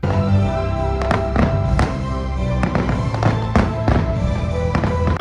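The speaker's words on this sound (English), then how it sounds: "we got to see the fireworks show from, I would say, the best seats in the house." A fireworks show bursts loudly and continuously, with dense overlapping booms and crackling pops close by, one explosion after another and no pauses between them.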